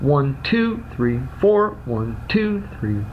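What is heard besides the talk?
None of the usual background noises is heard.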